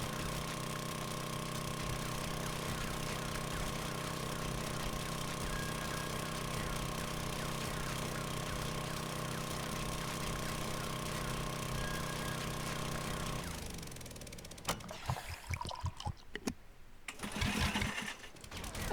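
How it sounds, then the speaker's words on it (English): A steady, droning mechanical whir of an auger boring into the ground in 7 Days to Die runs unbroken for over ten seconds, then gives way to scattered clunks and scraping noises. "Should just put my auger at the ground and then let it jump all the way up and do the work for me"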